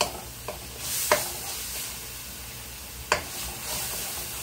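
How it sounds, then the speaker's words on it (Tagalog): Meat sautéing in a pan for Filipino sisig, a soft steady sizzle with a few sharp utensil clinks and stirring scrapes, close and moderately quiet, with no talk. "Igisa mo din yung karne na."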